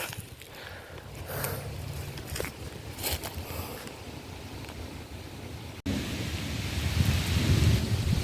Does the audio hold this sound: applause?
no